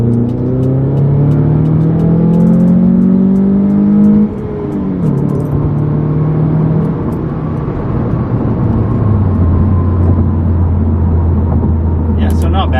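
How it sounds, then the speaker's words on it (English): A second-generation Scion tC pulls hard in second gear from about 30 mph, its engine note rising steadily and loudly with a brief dip midway, heard from inside the car. "There's a second gear pull from 30."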